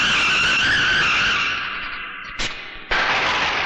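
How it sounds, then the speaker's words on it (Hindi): A scooter brakes hard and skids to a stop, a loud sustained tire squeal that fades out, then two short sharp bursts of noise near the end. "स्कूटर रोको।"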